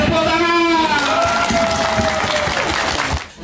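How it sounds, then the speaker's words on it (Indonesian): Applause and cheering from a crowd at a sub-district anniversary celebration in Selat Peneguan, dense steady clapping with whoops running loud throughout, ending abruptly. "Tepuk tangan."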